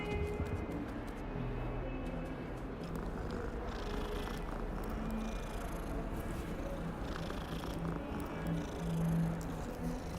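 A cat in the Hogwarts Legacy video game purrs steadily and close throughout, a continuous low rumbling with a few faint meow-like tones mixed in.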